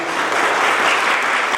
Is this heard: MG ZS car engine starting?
no